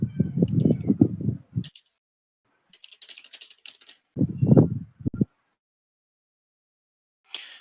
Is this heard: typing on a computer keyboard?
yes